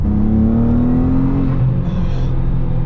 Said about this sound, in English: Oh, that turbo surge is intoxicating.